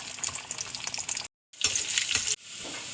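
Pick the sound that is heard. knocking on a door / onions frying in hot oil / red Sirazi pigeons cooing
onions frying in hot oil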